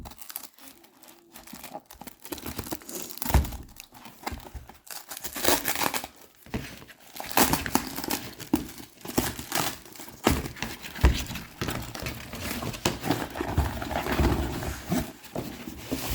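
Tightly taped package being torn and pulled open, with repeated crinkling, ripping and tearing of tape and wrapping close up, continuing irregularly without talk.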